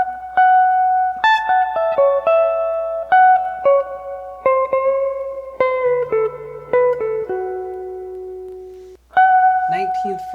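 Electric guitar lead phrase from a song, in D, played as clean single notes with bends and sustained tones, heard up close and alone, ending with a strummed chord.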